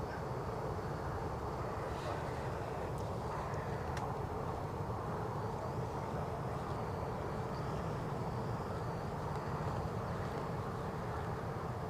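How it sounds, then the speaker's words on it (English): Embraer 190 airliner departing the runway at Newcastle airport, a steady broadband jet engine roar heard at a distance, constant and fairly loud throughout with no speech. "So this plane is off, as you'd expect, to Paris Charles de Gaulle, an Embraer 190 standard."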